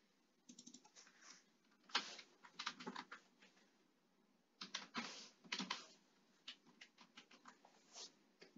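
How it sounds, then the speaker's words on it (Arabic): Password being typed on a computer keyboard: quick irregular bursts of key clicks with short pauses between, close and fairly quiet, no voices. "بعدين راح اقوم بكتابة الباسورد"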